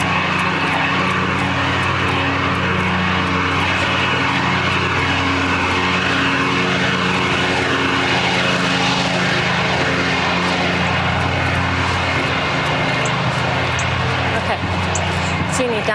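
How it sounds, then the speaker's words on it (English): Loud, steady engine drone of a tractor passing on a road, heard up close by a runner, with a constant low hum and harmonic whine that persists throughout and swells slightly in the middle. "I'm going past some kind of tractor thing, so I'm just going to let that pass."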